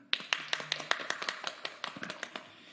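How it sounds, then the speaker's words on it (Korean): Sparse applause from a small audience at a Korean press conference welcoming arriving guests, a few distinct hand claps in an uneven rhythm, moderately close and fairly faint. "큰 소리로 박수 쳐주셨으면 좋겠습니다"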